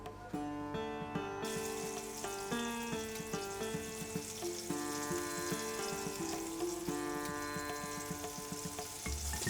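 Pieces of shish kebab and vegetables sizzle in hot oil, a steady soft hiss running beneath prominent background music.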